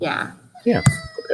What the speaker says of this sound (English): they have a cat and she is very chatty.